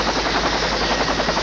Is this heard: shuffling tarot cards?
no